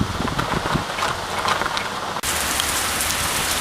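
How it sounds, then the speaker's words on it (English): Rain falls at a Mazda location, a dense, steady patter of drops on surfaces that continues without a break, with a sudden cut partway through to a slightly different rain texture. "Got stuck in the rain at Mazda."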